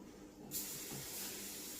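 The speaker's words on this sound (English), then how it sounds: "Spray the fry pan." Cooking spray hisses onto a frying pan in one short, close burst that starts abruptly and holds steady to the end.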